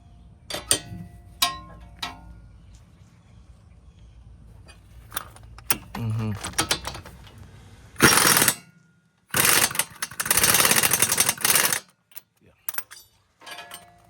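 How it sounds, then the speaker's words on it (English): Scattered clinks and rattles of metal parts lead into two loud, sustained bursts of a power tool whirring as it fastens a car shock absorber, followed by a few more clicks. "Use my power tool to do that."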